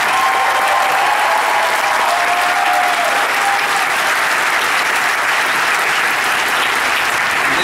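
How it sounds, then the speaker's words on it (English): A large audience at a fan convention gives sustained, loud applause for actress Ashley Eckstein, a dense unbroken wash of clapping lasting the whole stretch with a faint whistle early on. "So a huge round of applause for Ashley Eckstein."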